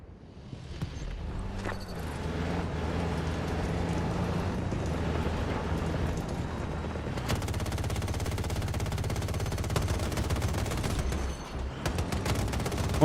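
Gunfire in Battlefield 6 with repeated loud blasts from a shotgun-style cannon, mixed with ongoing weapon fire, explosions and dense battle din. The barrage is steady and close, with no talk over it.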